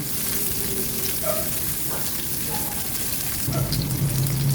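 Chopped onions hit a hot frying pan of garlic, giving a steady close sizzle that swells louder and brighter near the end as they land in the oil.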